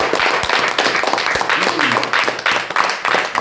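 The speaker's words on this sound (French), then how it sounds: "Applaudissons encore pour notre Seigneur." Church congregation clapping in a dense, uneven wash of applause with sharp claps throughout, voices mixed in underneath.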